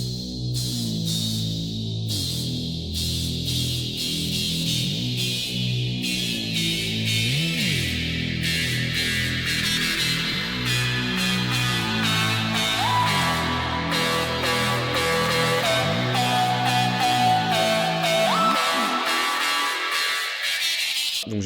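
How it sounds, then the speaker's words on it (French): Filtered synth lead playing a drop melody, joined by a rising riser sweep and drenched in heavy reverb; loud and continuous with layered harmonics and no voices. "C'est la lead qui fait exactement la mélodie du drop. Et donc la lead avec la rise,"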